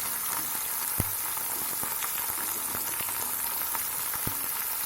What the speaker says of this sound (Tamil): எல்லாத்தையும் சேர்த்து நல்லா வதக்கிக்கோங்க.